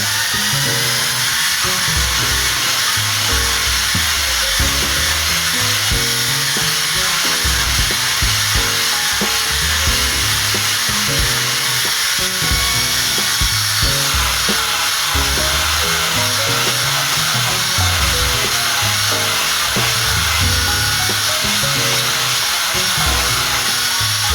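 A Braun Silk Epil 7 epilator runs at speed 1 over wet, lathered underarm skin, giving a steady, loud mechanical whir and buzz that continues unbroken throughout.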